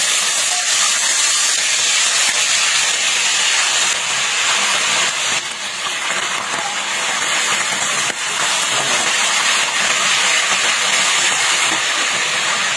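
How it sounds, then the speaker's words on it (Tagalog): Chicken searing in hot oil in a pan, a loud, continuous close sizzle and hiss that stays dense and steady throughout with no talking. "I-sear natin ang chicken."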